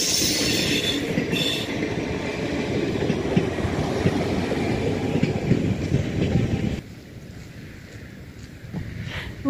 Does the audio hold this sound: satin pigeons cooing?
no